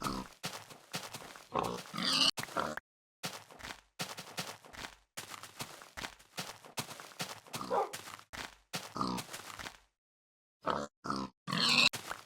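Pigs in a Minecraft world grunt and oink in repeated short bursts with brief silences between them, close and clear, with no talking over them.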